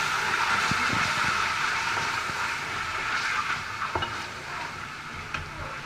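Minced keema fries with dry spices and salt for a malai aloo matar dish, a soft sizzle under a low rumble with a few scattered stirring knocks, fading slightly toward the end.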